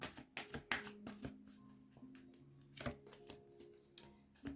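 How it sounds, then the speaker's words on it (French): Tarot cards being shuffled and dropping, a quiet run of crisp flicking slaps and papery riffles in irregular bursts, close up with no talk. "Je vais attendre que les cartes elles tombent."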